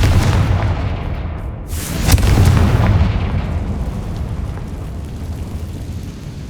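A Confringo fire spell explodes in the Hogwarts Legacy video game, a loud deep blast with a sharp crack around two seconds, followed by a rolling, fading rumble.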